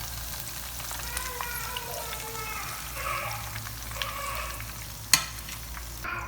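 Vegetable pakoras fry in hot oil with a low, steady sizzle and bubbling, stirred now and then, and one sharp clack near the end.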